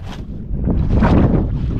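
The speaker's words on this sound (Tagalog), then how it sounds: "may bangka oh. Lumapit sa atin oh." Small boat out on open water, a low rumbling wash of engine and water noise that builds toward the middle, heard amid wind buffeting the microphone.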